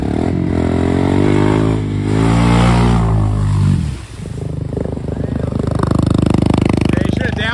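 A CF-Moto off-road vehicle engine revs hard, its pitch climbing and dropping through gear shifts, then settles into a rough, rattling idle-to-rev roar, loud and close, with voices briefly heard over it.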